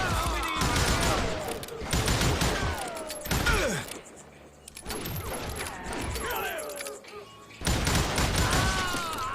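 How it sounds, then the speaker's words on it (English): Double pistol gunfire in Call of Juarez: Gunslinger, with volleys of sharp shots fired in quick clusters, separated by brief quieter gaps. "this aim of this double pistol is just all over the place"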